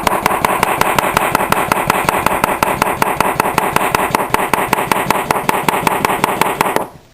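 Knife chopping cucumbers on a cutting board for refrigerator pickles, a fast steady run of sharp close taps for about seven seconds, loud and unbroken with no talk, then stopping abruptly.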